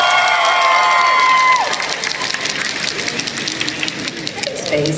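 A Comic Con 2024 panel audience roars with loud, sustained cheering and shouting that fills the whole stretch, swelling at the start and holding steady.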